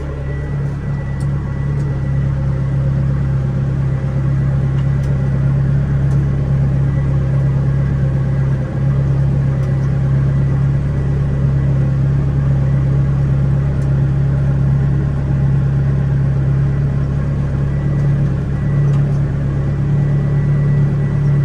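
A tractor drives slowly across a hay field, raking hay into rows, with a steady, droning engine hum and a constant low rumble that holds unchanged throughout and sounds close.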